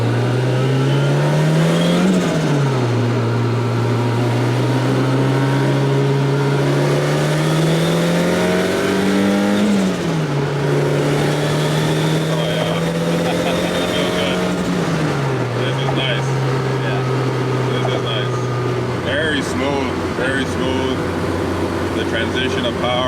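A Ford RS200 Group B rally car's loud turbo engine climbs in pitch, drops sharply at each gear change, and climbs again, repeating several times up close without any talking.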